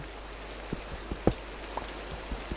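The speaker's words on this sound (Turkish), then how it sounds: "Ha yağmur yağıyor." Rain falls in the video game Minecraft, a steady soft hiss dotted with scattered raindrop taps and a few sharper pattering hits, with no speech.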